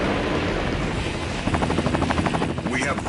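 A helicopter in the video game Metal Wolf Chaos XD gives a steady, loud rotor thrum with rapid rhythmic chopping pulses, heard under a continuous wash of game noise.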